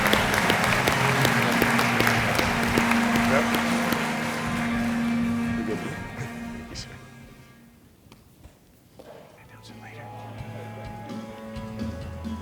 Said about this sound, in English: If we could get them all to stand and give them a big round of applause.